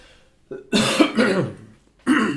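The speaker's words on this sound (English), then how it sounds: "Sorry for my coughing today." Several close, harsh coughs and throat-clearing bursts come in short clusters separated by brief pauses.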